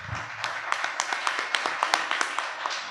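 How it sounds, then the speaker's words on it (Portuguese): Congregation clapping in church, a rhythmic run of claps in unison at a steady pace, moderately faint with a slight room echo. "Você pode aplaudir o Senhor mais uma vez?"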